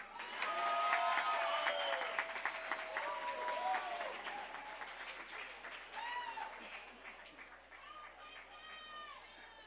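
Faint, distant applause fills a college commencement hall for the graduates, steady clapping with voices and cheering calls rising over it.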